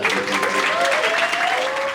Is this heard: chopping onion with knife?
no